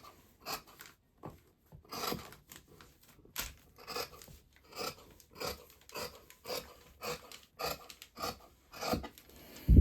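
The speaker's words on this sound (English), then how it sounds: "I love that noise of the fabric scissors cutting through fabric." Fabric scissors cut through fabric laid on paper, making a steady series of crisp rasping snips at a regular rhythm, close and quiet, with no voices.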